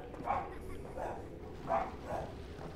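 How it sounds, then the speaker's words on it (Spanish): Dogs bark in the video game Never Alone, four distinct yaps spaced across a steady low ambient rumble, moderately close and fairly soft. "los perros ladran aquí con los enanitos"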